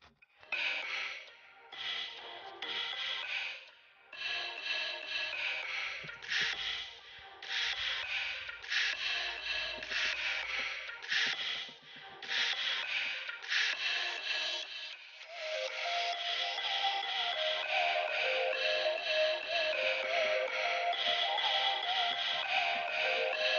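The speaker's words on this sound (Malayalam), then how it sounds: "അതിനുശേഷം നമ്മൾ മെഷീൻ ജസ്റ്റ് ഓണായി കൊടുക്കാം." Paper-cutting robot machine running, a small motorised whir and rubbing buzz in uneven bursts broken by brief pauses, then a steadier continuous hum near the end.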